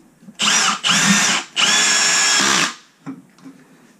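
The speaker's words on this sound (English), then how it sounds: "To drill with the right bit." Power drill boring into a concrete floor with the right bit while installing a toilet flange: three loud, steady grinding bursts close by with short pauses, then quiet clatter after the drilling stops.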